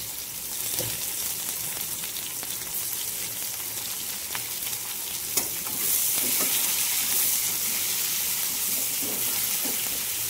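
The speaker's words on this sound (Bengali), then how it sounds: "পেঁয়াজটা লাল লাল করে ভেজে নেব।" Onion fries in hot oil in a wok, a continuous close sizzle with occasional stirring scrapes and crackles that grows slightly louder partway through.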